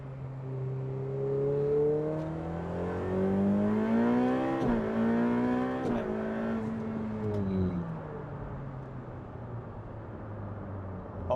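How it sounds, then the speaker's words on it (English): Ferrari 488 Pista (Hennessey HKV tuned) accelerating hard, a loud close engine note climbing steadily through the gears with brief shift breaks, continuous throughout. "I've never driven anything that accelerates like a 488 Pista."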